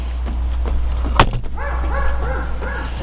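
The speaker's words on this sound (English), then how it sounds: "Shut it, dog." A dog barks several times in a quick rhythmic series, close and fairly loud, following a sharp knock, over a steady low rumble in the background.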